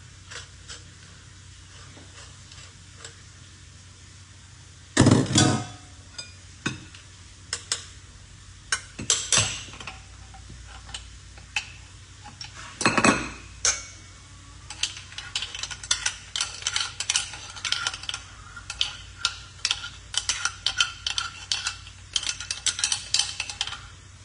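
Chili garlic cooking in a pan, a utensil scraping and clinking against the metal in irregular bursts that grow busier and more continuous over steady low frying noise.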